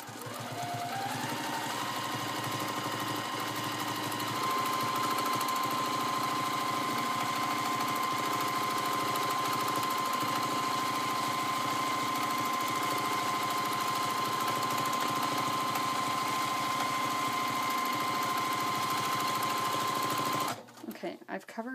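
Home sewing machine running steadily for free-motion quilting of a mood block, a constant close motor whir with stitching rhythm that holds for about twenty seconds before stopping abruptly near the end.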